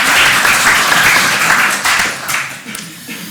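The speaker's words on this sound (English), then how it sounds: "Give them all a round of applause" Audience applause at a teachers' education event: dense clapping from a room full of people, loud at first and then thinning and fading out over a few seconds.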